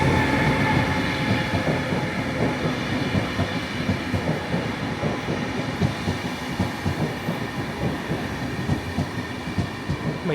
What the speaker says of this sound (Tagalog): may tren na naman na dumaan.